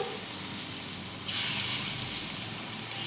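Batter for fritters drops into hot oil in a kadai over a gas flame in a village kitchen, and a soft simmer turns into a loud, steady sizzling hiss about a third of the way in that carries on to the end.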